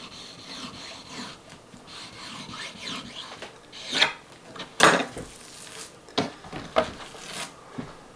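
A razor-sharp knife slices raw meat into uniform steaks for biltong, close rasping and rubbing strokes with a few sharper cuts and knocks against the board.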